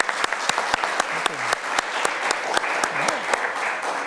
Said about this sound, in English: Let's give an intermission clap for what we've just.